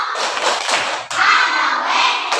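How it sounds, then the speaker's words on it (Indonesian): A class of third-grade students claps a rhythmic group cheer in a classroom, several quick bursts of claps with a short pause between them, loud and close. "Kita tepuk wow 1 kali. Tepuk wow."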